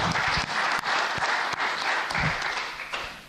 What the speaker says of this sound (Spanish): Le damos un aplauso de bienvenida a los tres panelistas.